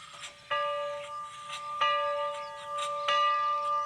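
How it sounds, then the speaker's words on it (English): A small train bell rings three times at an even, unhurried pace, each clear metallic strike ringing on before the next. "then right up here we have a little train bell"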